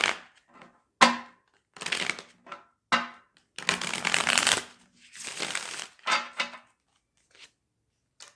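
Tarot cards are shuffled by hand in short, crisp riffling bursts separated by pauses, with light taps and slides between shuffles, close and clear.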